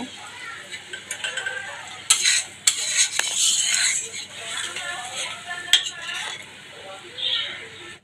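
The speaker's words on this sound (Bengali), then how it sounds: "এবার আমি তেলের মধ্যে ছেড়ে দিলাম এবার আমি এই মশলাটা ভালো করে কষিয়ে নেব" Spice paste stir-fried in oil sizzles with loud clanks and scrapes of a utensil against the pan, the hiss swelling and fading as the paste is stirred, close and uneven.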